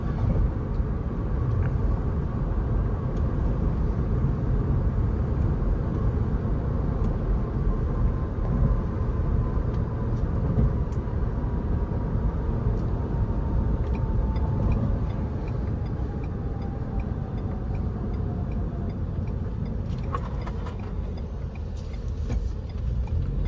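Cabin of a 2023 Ford Expedition Limited on the move: a constant low road and engine rumble with tire roar, steady throughout, with a faint rising whine and a few small clicks late on.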